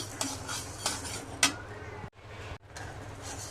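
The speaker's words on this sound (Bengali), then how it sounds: "মুসুরি ডালটা ভেজে নিচ্ছি একদম শুকনো খলায় ভাজতে হবে" Red lentils are dry-roasted in a pan with no oil, producing repeated light scrapes and clinks of a spoon stirring against metal, with a soft rustle between strokes.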